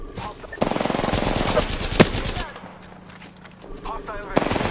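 Automatic gunfire in the Apex Legends video game rattles in a loud sustained burst, then quieter intermittent shots follow, with in-game voice talk present.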